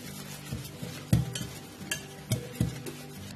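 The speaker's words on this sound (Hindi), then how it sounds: "तो इन अंडों के साथ इस शक्कर को अच्छे से मिक्स कर लेना" Eggs and sugar whisked together in a bowl for plum cake batter, a soft stirring with irregular clinks of utensil against the bowl, close and moderately quiet, no talking.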